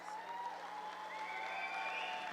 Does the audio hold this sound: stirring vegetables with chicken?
no